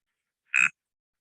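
A single short, squelching croak from an Uperoleia toadlet of the monsoon tropics, lasting under a quarter second and heard clearly with no other sound.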